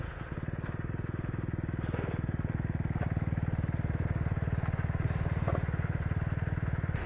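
A Hero Xpulse 4V motorcycle rides off-road on an enduro track with a rapid, steady single-cylinder engine putter that stays loud and close throughout, with faint clatter over it.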